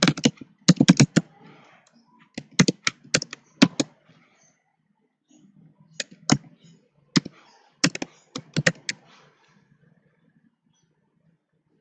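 Keys on a computer keyboard are tapped in quick bursts to enter an email address, with short pauses between clusters of crisp, close clicks in an otherwise quiet room.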